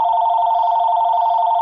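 An office telephone rings on before going to voicemail, a steady, loud electronic tone held unbroken throughout with no talk over it.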